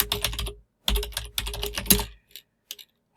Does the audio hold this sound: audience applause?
no